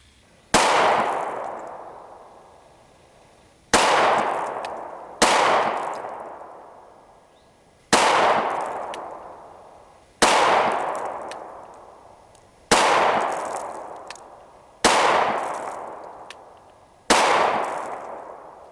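A Walther PPQ M2 9mm pistol fires 115 grain rounds at 10 yards: eight sharp, loud, close shots at uneven intervals, each followed by a ringing echo that fades before the next.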